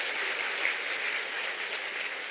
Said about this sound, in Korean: 박수 좀 한번 쳐보세요.